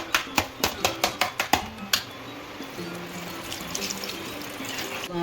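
Water poured into a bowl of cream being washed for making ghee. A run of quick clinking taps comes first, then a continuous splashing rush of water.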